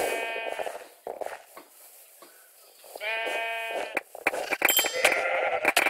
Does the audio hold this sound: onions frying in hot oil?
no